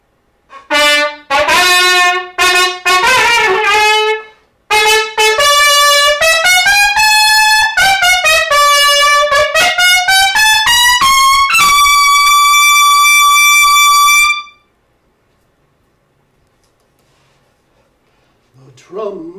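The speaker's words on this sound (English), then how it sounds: "The trumpet shall sound." A solo trumpet plays loud, close phrases with short detached notes at first, then long sustained and sliding tones, before falling silent; the third valve needs oil.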